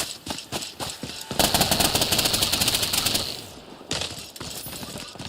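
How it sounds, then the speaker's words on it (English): A resurrection timer in a battle royale video game ticks down in a fast, sharp pulse, speeding into a dense rattling burst, then thinning out and picking up again; no speech. "That is the sound of your resurrection timer ticking down."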